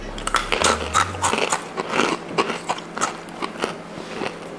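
Crisp crunching from biting into and chewing a crunchy snack, a rapid series of close, loud crackling bites with no talking.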